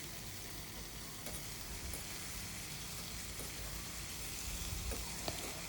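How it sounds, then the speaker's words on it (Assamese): Boiled drumstick flowers fry with tomatoes in a pan, giving a steady, moderately quiet sizzle with occasional soft stirring clicks throughout, no voices. "তাৰপিছত ধুনীয়াকৈ বিলাহীখিনিৰ লগত ভাজিম"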